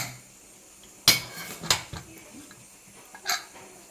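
A metal lid clatters on a pot of cooking cassava and bone curry: one sharp clank, then a few lighter knocks and a final rattle, close by in an otherwise quiet kitchen.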